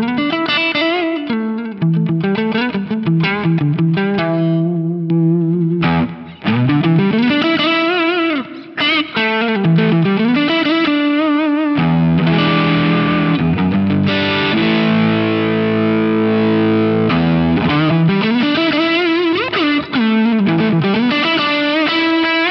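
Electric guitar on its neck pickup played through a PastFx TD-Y drive pedal, a loud, saturated distorted tone with sustained bends, sliding melodic lines and held chords, played alone with no talking.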